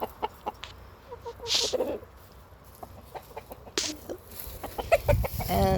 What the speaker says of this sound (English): My little rescue hens.